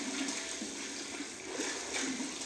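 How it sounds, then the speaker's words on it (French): While diving underwater in the video game Animal Crossing: New Horizons, a steady wash of bubbling, gurgling water hisses continuously at low volume with no break. "Allez, des petites bulles. Des grosses bulles."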